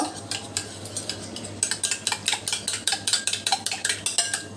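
An egg being beaten in a bowl with a utensil, giving rapid, rhythmic clicking strokes that begin hesitantly and then become steady and close, over a low hum, with no talking.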